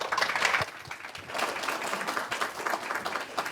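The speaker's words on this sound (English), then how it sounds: "So please, a big hand of applause." Audience at a women's entrepreneurship accelerator event applauding continuously, a dense wash of many hands clapping that holds steady throughout, with faint voices mixed into the crowd.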